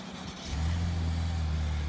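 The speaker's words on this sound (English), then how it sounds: "So we'll do the remote start." A 2020 Chevrolet Blazer RS AWD engine fires via remote start after a brief quiet moment, settling into a low, steady idle hum close by with no talk.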